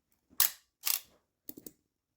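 An Asahi Pentax S3 camera shutter being worked, giving sharp mechanical clicks close up. Two crisp snaps come first, then a quicker, fainter pair of ticks, with quiet in between.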